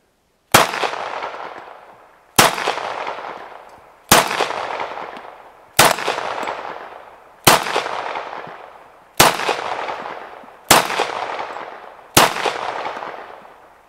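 Eight sharp, close cracks, each with a short decaying tail, ring out at steady intervals of about two seconds, fired one after another from a BrickArms Reloaded M1911 toy pistol, with no other sound between them.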